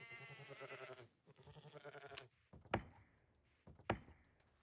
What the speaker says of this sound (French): qui m'énerve ces moutons quand ils veulent pas rentrer